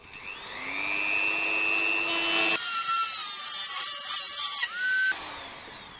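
A Dremel rotary tool cuts into a PC case, a loud near high-pitched whine that rises as the bit spins up, turns harsher and grinding mid-cut, then winds down, with no talking.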